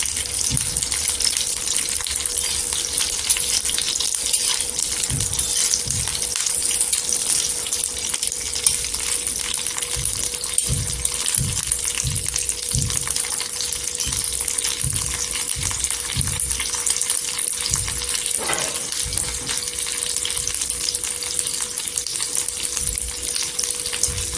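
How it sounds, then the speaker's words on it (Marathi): Green chillies frying in oil in a home kitchen give a steady, loud, close sizzle with crackling throughout, and soft stirring knocks can be heard underneath. "तेलावर छान अशा फ्राय करून घ्यायचं"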